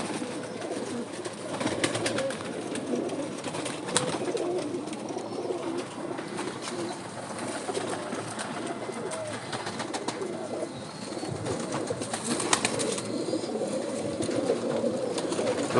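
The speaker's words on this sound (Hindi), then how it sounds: "एक और कबूतर" Pigeons coo softly and repeatedly in a loft, their low throaty calls overlapping against a constant background hiss, with occasional wing flutters and rustling.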